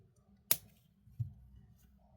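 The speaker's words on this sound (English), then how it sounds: "Snip that off. Snip it off." A single crisp snip from cutters trimming wire while making a cherry quartz volcano pendant necklace, followed by a softer second clip about a second later, both close and quiet.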